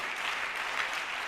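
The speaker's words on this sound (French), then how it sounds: "Alors donnons-lui une main d'acclamation ce matin." A church congregation at a morning service claps together in acclamation, an even, sustained patter of applause heard at a moderate, somewhat distant level.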